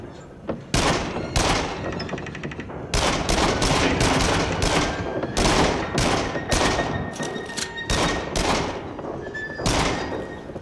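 Loud, close gunshots from handguns in the Rush of Blood VR rollercoaster shooter, a rapid irregular series of sharp cracks with brief gaps between volleys.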